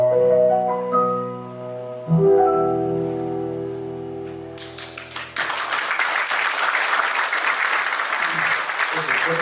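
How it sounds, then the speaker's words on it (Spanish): At a book launch in a municipal auditorium in Pichilemu, sustained tonal music gives way to a burst of warm audience applause, a dense crowd clapping that carries on steadily to the end. "Un aplauso para Diego"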